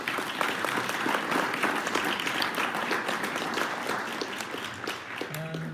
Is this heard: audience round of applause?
yes